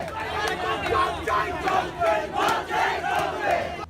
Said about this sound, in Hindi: उन्होंने तालियां बजाकर और नारेबाजी कर सबका ध्यान अपनी ओर खींचने की कोशिश की